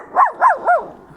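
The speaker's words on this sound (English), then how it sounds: "There's some people in the background. That's what Doobie's barking about." Three sharp barks from Doobie the dog in even succession, fairly close and loud, reacting to people nearby outdoors.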